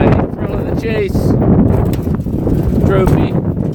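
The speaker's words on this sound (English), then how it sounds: "I just want to show you how windy it is here." Wind of around 56 mph roars across an open outdoor spot, loud and steady close to the microphone, with faint higher squeaks and rattles poking through the rumble.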